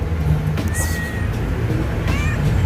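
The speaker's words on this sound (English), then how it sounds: "cute kitty." A cat in a Jamaican countryside yard gives a couple of faint, short meows over outdoor background noise.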